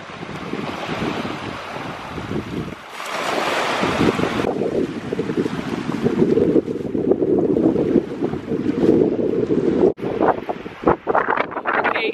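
Wind blows steadily at a beach by the sea, loud gusty rushing with microphone buffeting over waves and surf, no talking heard.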